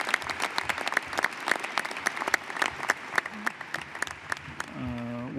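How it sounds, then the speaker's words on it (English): An audience at a National Space Council meeting applauds the presenting panels, steady crisp clapping of a modest-sized crowd that tapers off as a voice starts speaking near the end. "Could we give another round of applause to the distinguished panels that presented today?"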